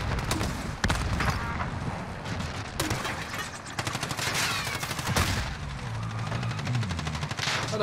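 Automatic gunfire rattles in Warzone in dense, rapid bursts, with sharp cracks and some louder blasts from a grenade launcher mixed into the constant shooting.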